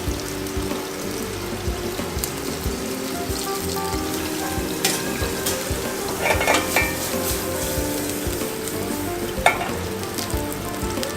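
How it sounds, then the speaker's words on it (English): Salmon fries skin-side down in a pan with a steady close sizzle, broken by occasional clinks and scrapes of utensils against the pan. "So we're going to put the salmon in here. Let it get the skin get a little bit crisp."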